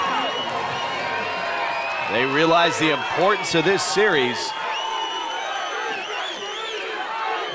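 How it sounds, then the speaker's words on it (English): Stadium crowd at a Lingerie Football League game between Seattle Mist and Temptations roars and whoops as play nears the goal line, swelling loudly midway under a commentator's continuous play-by-play talk. "This crowd coming to life."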